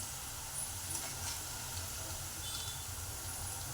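Bitter gourd fries in a pan with a steady, soft sizzling hiss that runs without a break, fairly quiet and close.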